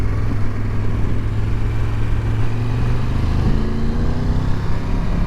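Steady engine drone and wind roar from a 2022 Triumph Tiger 1200 GT Pro being ridden at cruising speed, a constant close hum with no talk.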